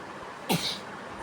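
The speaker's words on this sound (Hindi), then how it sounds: "देखो खांस के भी दिखा रही है वो मेरा बच्चा" A child gives a single short cough against a quiet background, brief and fairly close.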